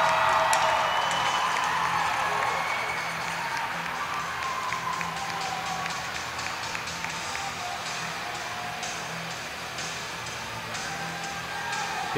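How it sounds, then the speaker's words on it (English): Hockey arena crowd cheering during a college game, a broad, steady roar of many voices with scattered claps and taps throughout, no single voice standing out. "Austin Killian getting the crowd fired up."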